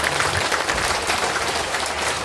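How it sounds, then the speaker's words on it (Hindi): An audience at a political speech bursts into dense, continuous applause, a loud, crackling wash of many hands clapping at once that holds steady for about two seconds. "ताली मत बजाइए।"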